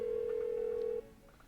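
A telephone rings unanswered in the video game Persona 4, a single sustained electronic tone that cuts off after about a second, leaving quiet game background.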